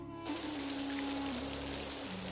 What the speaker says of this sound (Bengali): আজ অনেক বৃষ্টি হচ্ছে